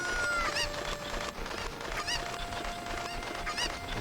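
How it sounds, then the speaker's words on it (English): Cucco chickens from the Ocarina of Time video game cluck and squawk in short repeated calls over busy background game music, with no talking. "we can start by just grabbing this chicken right here in the entrance"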